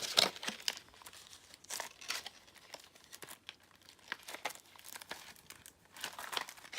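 Nintendo paper inserts from a Japanese video game box being handled up close: repeated crinkling and rustling bursts with quiet gaps between, irregular rhythm, no voices.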